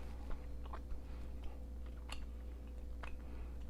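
Close, quiet chewing of a soft, sticky Filipino yema candy, a caramelized custard sweet, with faint wet clicks and squishes at an irregular pace over a steady low background hum.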